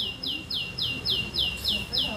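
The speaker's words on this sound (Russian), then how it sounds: "Даже птицы поют." Small songbirds chirp in a steady, repeating series of bright, evenly spaced notes, about eight in two seconds, heard outdoors in a kitchen setting over a faint background murmur.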